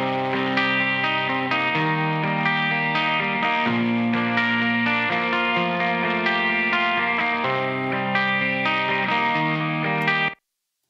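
1970s Gibson 335 electric guitar playing a rhythm part through plate reverb, with a slight crackle in the top end; steady sustained chords ring out alone for about ten seconds, then cut off abruptly.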